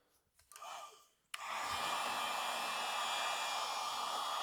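A heat gun kicks on abruptly after a brief soft hiss, then blows a loud, steady broadband roar close by while shrinking heat-shrink tubing on crimped wire connectors for a snowblower chute deflector actuator control kit.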